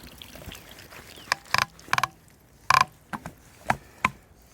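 A pool sand filter's multiport valve dial is turned and locked into place, giving a series of sharp plastic clacks and ratcheting clicks, several bursts spaced unevenly, close and alone over quiet background.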